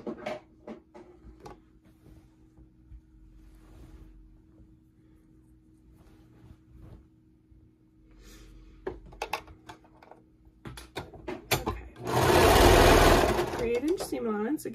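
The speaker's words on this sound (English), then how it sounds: "if you're using a regular sewing machine, make sure you're using a stretch stitch" A sewing machine stitches a tee shirt seam in short bursts, then a long loud run near the end, with a person talking quietly between and over the stitching.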